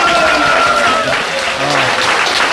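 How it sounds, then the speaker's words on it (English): A steady, dense round of applause from an audience at a spiritual sermon gathering, honoring the Archangel. The clapping holds close and even throughout, with faint voices mixed underneath. "let's give a round of applause"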